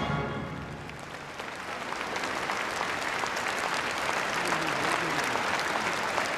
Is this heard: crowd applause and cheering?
yes